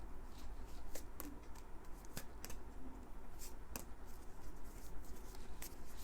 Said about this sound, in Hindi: मैं सारे कार्ड्स निकाल लेती हूँ